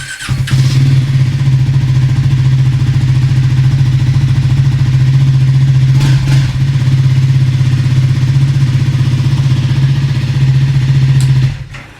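A Triumph Scrambler 400 X motorcycle engine idles steadily at close range through its stock exhaust, a deep even rumble that holds for several seconds before cutting off.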